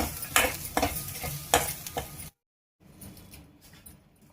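Onions fry in hot oil with mustard seeds and curry leaves, a close crackling sizzle punctuated by sharp stirring scrapes, cutting to a brief silence before a fainter, quieter sizzle resumes.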